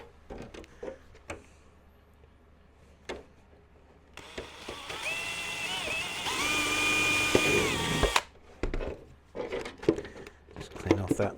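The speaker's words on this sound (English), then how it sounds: "So there's a couple of little holes here that need to be drilled" Small power drill boring two little holes with a 1.5mm bit in the body of an HPI Racing Venture SBK RC model, a steady whirring burst of about four seconds between quiet moments and tool handling.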